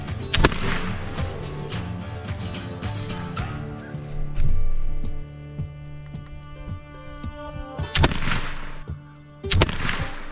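A McInturff rifle fires at a target: a few sharp, loud gunshots, each followed by a long ringing echo and a fading tail, spaced several seconds apart outdoors, with no talking.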